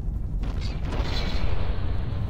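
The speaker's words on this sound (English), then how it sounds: "Lots of explosions, lots of bullets." Naval combat in the From The Depths game brings muffled explosions and booming gunfire, a loud dense low rumble with bursts layered over each other and no speech.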